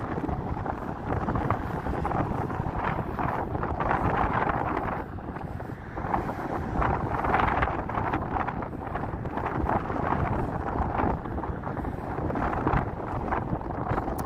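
Strong gusty wind buffets the microphone on a morning walk in Las Vegas, a loud continuous roar that swells and dips in waves throughout, with no talk.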